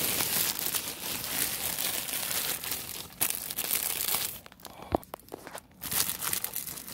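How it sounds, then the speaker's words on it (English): Paper wrapping on a loaf of Pepperidge Farm oatmeal bread is opened, with continuous close crinkling and tearing that pauses briefly near the end before resuming. "I really want to open it up now. There's like another paper inside it."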